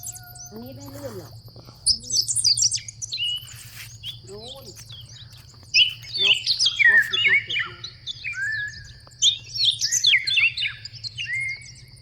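Many birds chirp and call around a Thai temple grounds, with bright, overlapping tweets and trills in irregular bursts over a low steady hum, while voices talk briefly.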